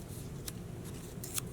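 Scissors snip through paper for a kids' torn-paper owl craft, with a few short crisp cuts heard close up against a quiet room background.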